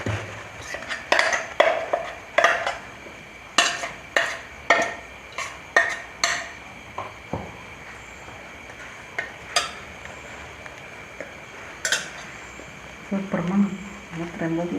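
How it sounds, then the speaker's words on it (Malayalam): A spoon scrapes and knocks against a pot while ground masala paste is mixed with fish for a Kerala meen peera, giving a series of sharp close clinks in an irregular rhythm, loud against a quiet background. "നന്നായി മിക്സാക്കി കൊടുക്കണം കേട്ടോ."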